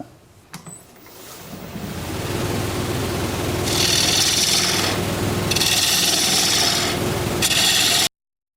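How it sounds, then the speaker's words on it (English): A scraper cuts wood on a lathe while turning a live edge rectangular bowl, a loud continuous rasping scrape with surging brighter passes, close up and unbroken until it cuts off abruptly. "I'm not a fan of using the scraper if I don't have to, but sometimes I just have to."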